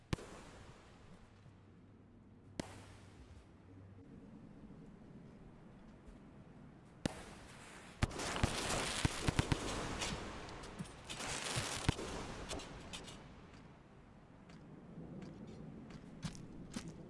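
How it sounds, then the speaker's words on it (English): Grenade explosions in the video game Rain World, a few sharp cracks followed by a loud, crackling burst of blasts and debris in the middle, then fading to a quiet ambient hum. "Maybe I'll try 2 grenades again."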